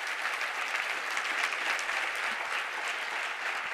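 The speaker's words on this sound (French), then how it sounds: "on peut vous applaudir" An audience at a conference with a round table on international rights day applauds in a steady, even wash of clapping, moderately loud throughout.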